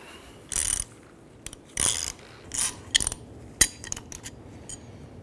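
A ratchet wrench removes the front strut top nut on a 2011-2017 Honda Odyssey, sounding as several short bursts of close, rapid clicking with pauses between strokes and a few faint ticks at the end.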